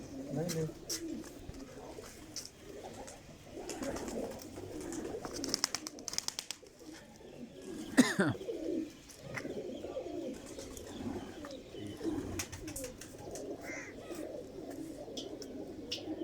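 Soft, repeated cooing of pigeons throughout, with some rustling and flapping and a brief sharp noise near the middle, at a pigeon-keeping rooftop in Sialkot.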